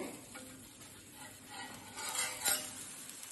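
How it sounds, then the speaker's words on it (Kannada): Onion dosa sizzling on a hot pan as it is flipped, with faint crackling frying and a soft scrape of a spatula, quiet and close with a brief louder clatter near the end. "ಇದು ನೋಡಿ ಇವಾಗ ತಿರ್ಸು ಹಾಕ್ತಾ ಇದ್ದೀನಿ"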